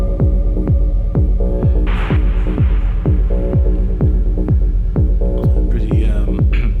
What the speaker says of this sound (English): Pretty dry sounding kick and very heavy bass rumble